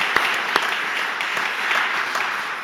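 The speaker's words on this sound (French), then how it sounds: "On peut vous applaudir." An audience applauds the mayor of Bordeaux at a Keys to the City event in Bordeaux, a dense, sustained round of clapping from many people, with a few sharper individual claps standing out from the even wash.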